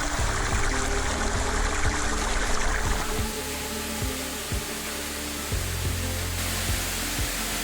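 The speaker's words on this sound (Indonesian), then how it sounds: "Dengan tinggi sekitar 20 meter, air terjun ini mengalirkan air ke sungai di bawahnya." Roughly 20-metre waterfall in Yawosi district, North Biak, pouring into the river below: a dense, constant roar of falling water, loud and unbroken throughout, with low thumps underneath and no talking.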